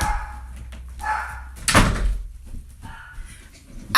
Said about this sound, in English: I gotta shut my door.